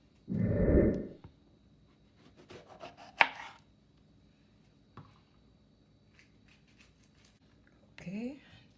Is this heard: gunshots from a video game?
no